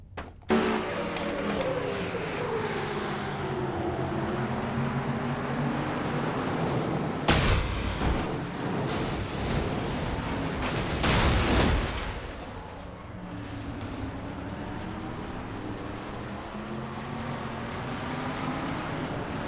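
Race car engine heard from an in-car camera in an online racing video game, a stalled car restarting and pulling away: continuous loud engine roar with revving surges and shifts, running throughout with no talk.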